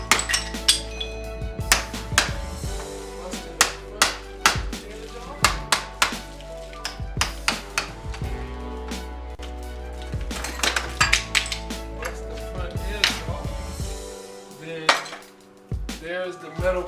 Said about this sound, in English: I have the chisel with the hammer,